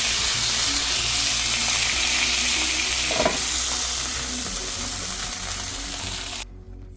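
Beef burger patties fry on a grill with a loud, steady, close sizzle and crackle that holds throughout, with a brief scrape partway through before cutting off near the end.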